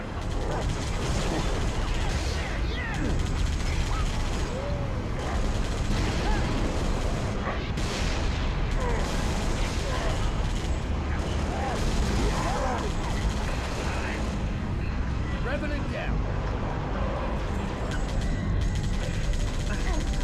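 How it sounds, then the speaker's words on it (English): Gunfire hitting the player in the Halo: Reach mission ONI: Sword Base, a dense and continuous barrage of shots and mechanical clatter with no lull. "Uh-oh, we're getting shot up."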